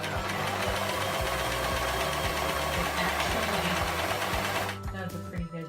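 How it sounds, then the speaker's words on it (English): New serger sewing machine stitching fabric for a tube dress, running with a fast, steady mechanical chatter close up before stopping near the end, with someone speaking over it. "It's a new serger, so I'm excited about that."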